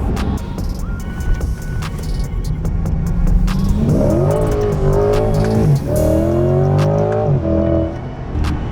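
A stock Chevrolet Corvette C8 drives close by: a steady low engine drone, then two strong rising rev pulls with a clear layered tone, alone with no talk.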